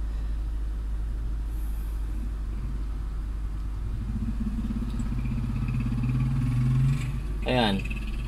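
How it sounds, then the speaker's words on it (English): Car engine idling steadily right after a cold start, monitored with an Ancel JP700 OBD2 scanner; a continuous low rumble throughout, rising slightly toward the end with a brief higher rattle near the close. "Kaya start ko lang ng makina natin."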